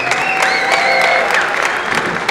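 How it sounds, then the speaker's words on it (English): Applause and some cheering from a live audience at a magician's stage show, a dense burst of clapping with a few whistles on top, loud and close. "But give me a round of applause."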